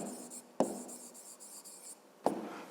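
Pen or pencil writing on paper in a math exercise, a faint scratchy rubbing with two sharp taps where the tip strikes the page, quiet and close.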